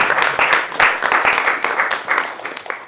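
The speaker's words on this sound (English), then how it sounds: "a round of applause for Anita and Rohan's dad" Audience applause at a graduation concert, a lively close-up round of clapping from a small crowd, with individual claps clearly audible in an uneven rhythm over the steady patter.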